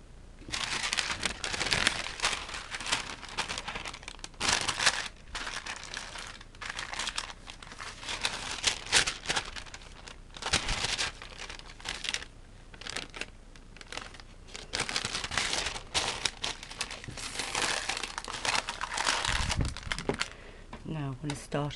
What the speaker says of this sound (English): I've got my wax paper now. I'm going to lay that on top of my image.